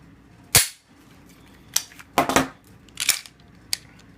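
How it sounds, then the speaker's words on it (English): Springfield XDS pistol firing out the rest of its magazine: four or five sharp, loud gunshots at irregular intervals, each a brief broadband crack, with quiet gaps between. "I'll go ahead and finish this mag out."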